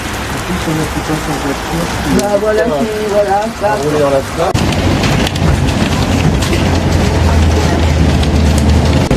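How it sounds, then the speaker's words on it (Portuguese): Hail, an icy rain, patters densely and loudly on surfaces outdoors in Normandy, France, a constant hiss-like rattle, with a voice speaking over it early on. "É chuva de gelo, não é neve."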